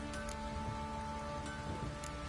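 Steady rain downpour in The Witcher 3 video game, a constant dense hiss of falling water with faint game ambience tones, no talk.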